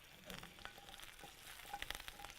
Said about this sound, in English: In with our turnips, sizzling.